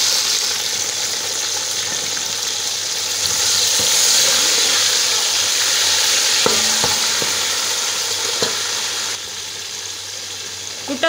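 Chopped tomatoes and green chillies frying with golden onions in a pot for mutton pulao, giving a steady loud sizzle with a few scraping stirs near the end.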